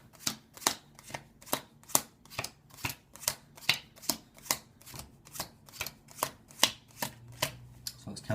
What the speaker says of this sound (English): So let's just count them out now into black and red piles.